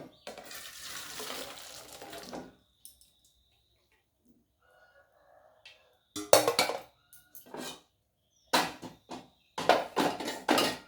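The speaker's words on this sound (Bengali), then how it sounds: "এই অবস্থায় আমি গ্যাস বন্ধ করে দেবো। দিয়ে আমি জলটা ঝরিয়ে নেব।" Hot water drained from a pot of boiled cauliflower, a rushing pour into the sink at first, then quiet with faint clinks, followed by bursts of splashing and rinsing near the end.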